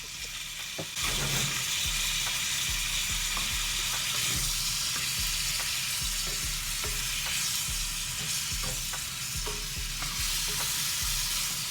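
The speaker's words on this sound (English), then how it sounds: "once the apples have cooked down on the stove" Apples with sugar and vanilla cooking on a stove, a steady close sizzle and bubble with repeated spoon stirring scrapes throughout, no talking.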